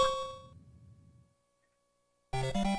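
A boxing video game's round-end bell on an MSX rings out with a bright metallic clang that rings and fades into silence, then another loud clang strikes near the end.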